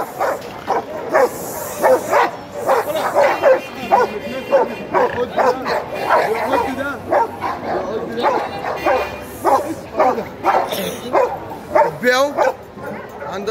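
A fierce dog at a market barks and yips in rapid, loud repeated bursts, close by, with people talking over and around the barking throughout.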